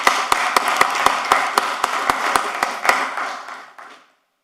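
Scattered hand claps from a small group in a city commission meeting chamber, a sparse run of distinct claps that thins out and stops after about four seconds.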